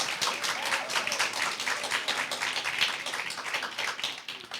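A crowd at a school impromptu speaking competition claps for an announced finalist, producing continuous, fairly even applause that fades slightly toward the end, with no voices.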